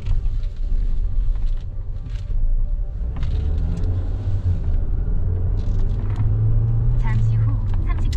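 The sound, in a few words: car engine during a test drive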